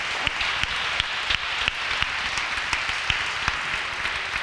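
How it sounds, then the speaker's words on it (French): Audience applause at a round-table discussion: steady broadband clapping from many hands, moderately loud and even throughout, with sharper individual claps standing out now and then. "Applaudissez le cas."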